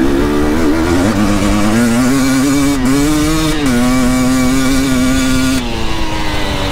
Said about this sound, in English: This bike sounds so good.